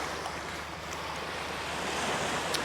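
Sea waves breaking on a shore, a steady broad wash of surf with wind buffeting the microphone, swelling slightly louder toward the end.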